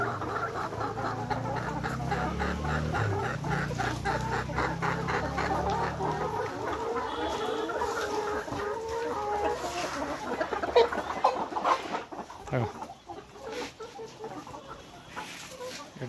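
Layer hens on a poultry farm fed a layer concentrate cluck continuously as a dense, nearby flock, with overlapping calls throughout and a brief louder squawk partway through.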